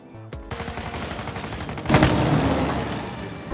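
Gunfire in a Naughty Dog action video game, rapid bursts of automatic shots with booming impacts, dense and loud, swelling into a heavier barrage midway.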